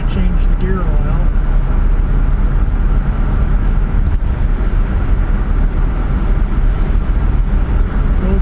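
A 1959 Chevrolet Bel Air with its 348 engine cruising down the road, giving a steady, loud drone of engine and road noise that holds evenly for the whole stretch with no break.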